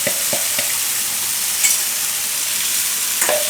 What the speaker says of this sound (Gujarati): ગ્રેવીને આપણે થોડીક વાર પકાવી લેવું.